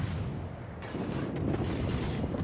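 Naval guns firing a salvo in the World of Warships video game, a dense, loud rumbling barrage of booms that swells partway through and rolls on continuously.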